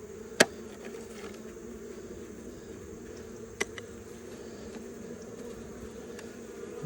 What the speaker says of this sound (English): you can hear them buzzing around me